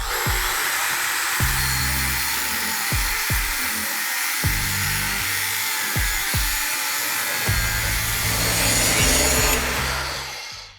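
A grinder fitted with a 3M Cubitron 31182C fiber disc grinds down a beefy weld, giving a loud continuous abrasive roar broken by repeated thumps and bites as the disc is pressed and moved across the metal, with no talking.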